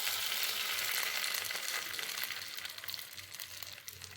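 Oil heats in a wok after shrimp have been fried in it. It gives a continuous close sizzle that slowly thins out, with a faint low hum underneath.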